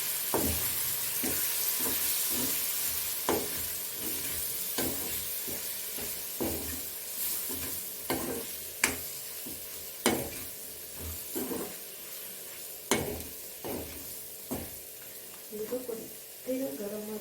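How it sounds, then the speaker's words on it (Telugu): A spoon stirs turmeric and spices into a sizzling mixture in a frying pan, with repeated scraping clicks over a steady background hiss. "కొద్దిగా పసుపు వేసి మంచిగా కలుపుకోవాలి."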